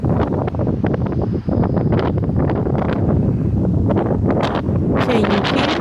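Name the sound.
high wind outdoors on a nature walk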